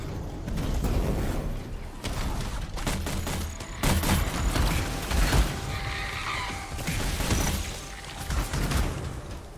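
Rapid explosive blasts and bursts of weapon fire from a grenade launcher in the sci-fi action game Anthem, fired by a Colossus javelin, dense and loud throughout with repeated impacts and mechanical clatter.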